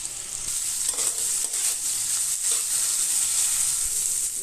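Stone-ground spice paste frying in a pan for Bankura-style khero jhal curry, a dense, even sizzling hiss that stays loud and close throughout with no talking.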